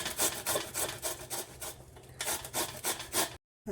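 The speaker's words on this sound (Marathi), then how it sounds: "वरचे खालचे भाग आहे तो थोडासा काढून घ्यायचा आहे आणि किसणीवर किसून घ्यायचं आहे" Red radish is grated by hand on a grater, a close rhythmic rasping of quick, even strokes repeating about twice a second, with a brief pause midway.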